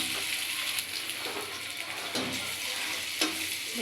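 Duck eggs frying in oil with turmeric in a pan, a steady soft sizzle with occasional sharper crackles and brief bursts, fairly quiet and without talk.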